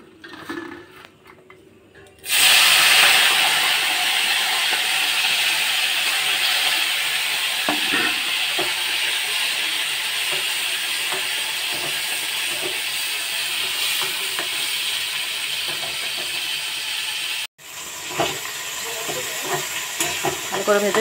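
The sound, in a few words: dried shrimp frying with turmeric and salt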